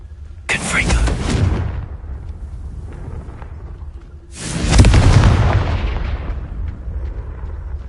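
Two loud booming explosive spell blasts from the Confringo charm in Hogwarts Legacy on PlayStation 4 Pro, each a sharp burst trailing into a rumbling decay, spaced a few seconds apart.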